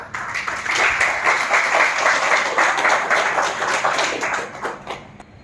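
A crowd claps steadily for about five seconds at a Telugu public talk in Vijayawada. The applause is dense and sustained at an even level, then tapers off slightly at the very end.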